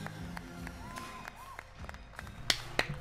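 A single person clapping alone at a gaming conference stage reveal, a few sharp, separate claps near the end over faint room noise and background sounds.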